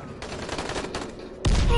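Video game gunfire aimed at the player, a dense burst of rapid shots crackling steadily, then a heavier, louder blast near the end.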